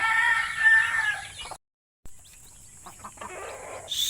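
Native chickens and small chicks cluck and cheep close by in a farm setting, with a rooster crowing, a brief gap of silence, then softer peeping and clucking resuming.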